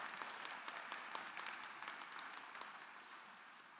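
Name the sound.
applause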